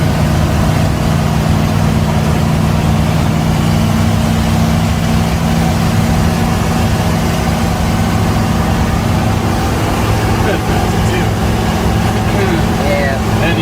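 A 1973 Chevrolet K20 4x4 truck engine rumbles loud and steady at close range, a deep continuous drone with no breaks, the exhaust needing work.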